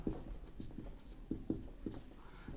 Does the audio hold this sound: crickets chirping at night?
no